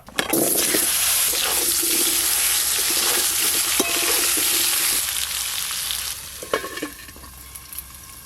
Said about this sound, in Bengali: আজকে সিলভার মাছ আলু দিয়ে রান্না করব, আলুগুলোও ভালো করে ভেজে নেব।